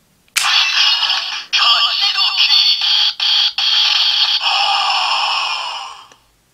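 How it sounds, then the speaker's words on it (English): A bright electronic sound effect from a DX Kachidoki Lock Seed toy unlocking bursts in and plays steadily for several seconds with a few brief cutouts, loud and close, then fades away. "So then you have the unlocking sound."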